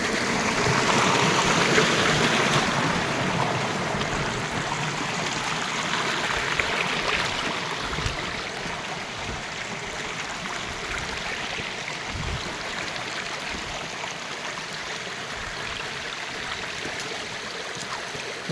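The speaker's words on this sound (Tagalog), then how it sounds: "creek po na dumaan sa cave sa ibabaw" A creek runs over a cave, a steady, close rushing and trickling of flowing water that carries on evenly throughout with no voices.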